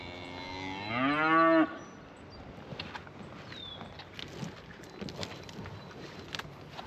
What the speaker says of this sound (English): I'm gonna go down and feed the cows